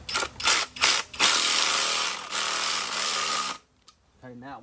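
A power tool spins flywheel bolts tight in a star pattern during a Honda B-series clutch job: a few short buzzing bursts, then a longer sustained run, stopping abruptly before a brief voice.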